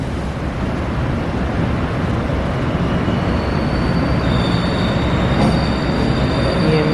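EMU 500 series electric commuter train passing through a tunnel in Taipei, a loud continuous roar of wheels and rumble with high squealing tones rising toward the end, steady and close throughout.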